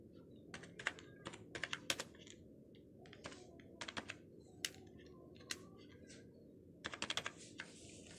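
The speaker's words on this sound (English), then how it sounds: "then type" Bursts of computer keyboard typing while a restaurant burger banner is designed, short clusters of close, crisp key clicks separated by quiet pauses.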